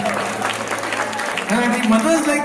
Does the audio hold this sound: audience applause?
yes